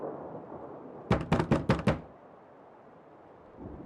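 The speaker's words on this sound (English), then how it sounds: "there came a timid knock at the door of my mansion." Five quick knocks on a door in the horror game The Blood Diary, sounding as a tight, even burst over a quiet backdrop with no talk.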